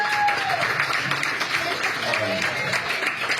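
An audience at a tribute event honoring Bill Duke applauds Sydney Chandler with a lively, continuous patter of clapping. A voice cuts through the crowd noise from time to time.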